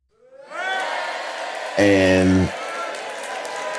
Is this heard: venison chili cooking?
no